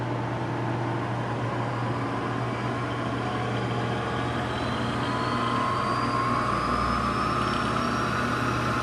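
A South Bend milling machine spins at its full 4,200 RPM, giving a steady, close mechanical hum with a thin motor whine that holds evenly throughout.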